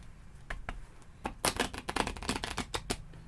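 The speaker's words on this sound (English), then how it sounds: "You can shuffle the cards." A deck of playing cards is shuffled close by in a quiet room, a rapid run of crisp riffling flicks swelling into a denser burst in the middle.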